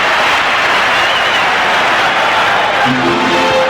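A basketball crowd at Madison Square Garden gives off a steady, loud roar of cheering and noise that fills the whole short stretch without a break, at a game between the Houston Rockets and New York Knicks.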